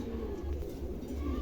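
King pigeons coo in a short, low, rolling burst, close and moderately soft, with no voices over it.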